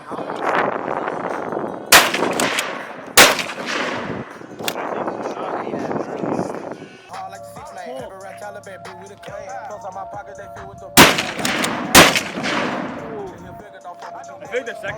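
Loud gunshots ring out at an outdoor shooting range, two close together early on, a pause, then another tight pair, with men chatting between the shots.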